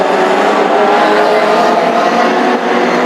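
Race cars thunder past on the Hednesford oval during a final, a loud continuous engine roar with the pack running close together and no pauses.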